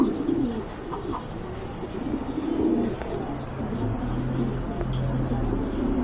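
Pigeons from a large breeder's collection coo in low, rolling, repeated murmurs close by, layered over a steady background hum with no talking.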